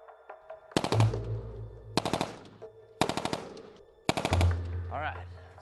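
Machine gun fire from the video game Battlefield 3: four rapid bursts of several shots each, loud and close, separated by short pauses with a low rumble under them.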